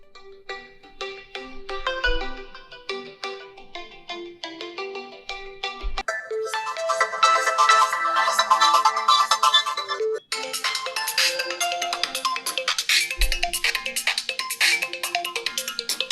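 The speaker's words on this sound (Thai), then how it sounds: "เสียงเรียกเข้าดูดิ" A realme 14 Pro smartphone plays its ringtone loudly through the loudspeaker at boosted volume, a bright melodic tune with plucked notes that swells into fuller, denser passages and carries on without any talking for about sixteen seconds.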